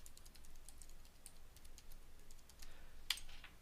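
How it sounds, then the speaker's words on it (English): Very faint keystrokes as a web link is typed on a computer keyboard, a quiet run of light clicks with one sharper tap near the end, set against a soft background hiss. "I'll type that in there."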